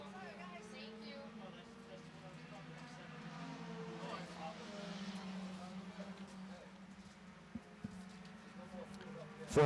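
Mini stock race cars lapping the Waterford Speed Bowl oval, their engines droning faintly and steadily from a distance, rising and falling as the pack circles, with a commentator's voice running over the noise.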